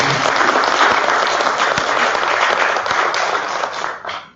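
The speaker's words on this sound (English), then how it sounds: "Please, a round of applause for PANCAP." Audience applause at the opening ceremony of a Caribbean health partnership relaunch, a dense, loud wash of many hands clapping steadily before tapering off at the very end.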